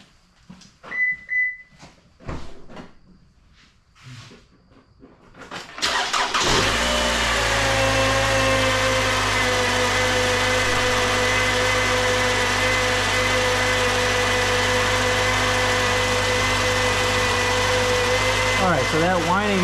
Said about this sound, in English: that whining noise you hear is one of the audible telltale signs that the alternator is